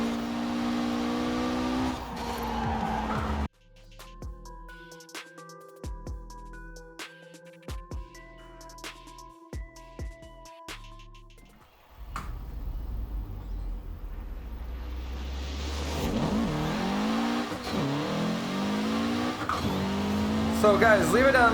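A Mitsubishi Evo VI races in Forza Horizon 4, its engine revving and tires squealing, with a musical stretch of plucked notes in between and someone talking over the whole run.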